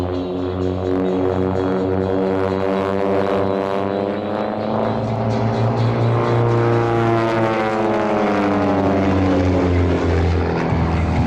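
Propeller aircraft, home-built Van's planes, flying in formation at the NAS Key West airshow on a gusty, windy day, a loud steady engine drone whose pitch rises and falls as the planes pass close by, with no talk over it.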